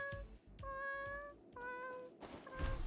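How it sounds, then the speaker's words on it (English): Cat meowing in the video game Honkai: Star Rail, three drawn-out plaintive mewls in a row, clear and fairly close, with faint background noise between them. "the cat sounds so sad and creepy"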